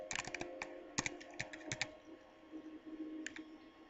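Rapid keystrokes on a computer keyboard, a quick burst of crisp clicks that thins out, then a few more scattered taps over a faint steady hum.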